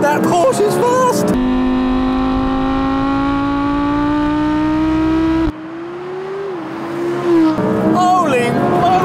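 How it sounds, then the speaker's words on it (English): A Porsche 911 Turbo launches hard in a race against an Audi R8, one loud sustained engine howl rising steadily in pitch, then easing, with excited voices at the start and end. "That Porsche just took off like a rocket!"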